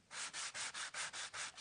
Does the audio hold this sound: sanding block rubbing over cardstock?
yes